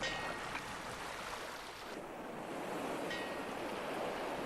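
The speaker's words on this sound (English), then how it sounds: "the quiet sound of the water slapping against a buoy at the beginning of the film" Water slaps against a buoy at sea in the opening of the film Jaws, a continuous, soft wash of surf and lapping waves with a faint whistle of wind and no voices.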